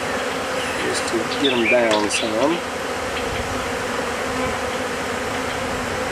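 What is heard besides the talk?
honey bees buzzing in a hive during swarm catch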